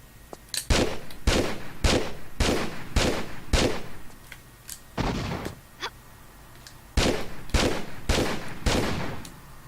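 Ten sharp revolver shots ring out in the Tomb Raider level editor, spaced in uneven bursts with brief pauses between them, loud and close, with no talk.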